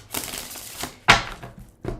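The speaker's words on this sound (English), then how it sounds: "I have to shuffle this in 2 separate decks" Tarot cards shuffled by hand, split into two separate decks: a few brisk papery riffles and flutters, with one sharper snap of cards near the middle, close and fairly quiet.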